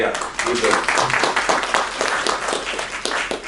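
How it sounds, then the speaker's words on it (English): A conference audience at a sustainable-cities session applauds in a brief, lively burst of many hands clapping, close and fairly loud, tapering slightly at the finish. "One big round of applause for all these people who have been very instrumental in making this event a reality"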